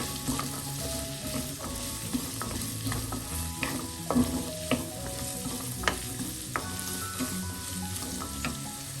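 Chopped carrots and green chillies sautéing in a pan for a Kerala carrot curry, with a steady sizzle and frequent scraping stirs of the spoon, close and moderately loud, no talking.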